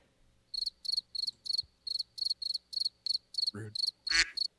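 A cricket chirping sound effect plays as a steady series of about a dozen evenly spaced, high, pulsing trills, clean and isolated, with a brief thump near the end.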